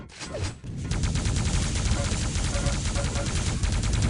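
In a Quake Live match, rapid weapon fire fills the clip. Dense bursts of gunfire, including shotgun blasts, crackle loudly and continuously in the game audio, with no pauses for speech.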